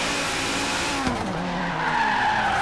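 Audi Sport Quattro in Forza Horizon 3 braking hard into a skid, a sustained tire squeal that bends downward over a droning engine, loud and close, with no voices.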